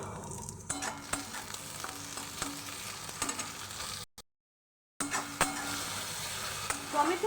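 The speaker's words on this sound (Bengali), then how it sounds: "আমার পেঁয়াজটা খুব ভালো করে আমি ভাজা ভাজা করে নিয়েছি" Onions fry in a pan with a continuous sizzle while a spoon scrapes and stirs in repeated strokes; the sound drops out briefly midway before the frying and stirring resume.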